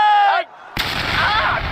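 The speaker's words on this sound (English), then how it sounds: "A magnificent explosion. Better than I had anticipated." An explosion or artillery blast in Civilization VI: a brief tonal passage fades to near silence, then a sudden loud booming burst hits and rolls on as a sustained rumbling roar.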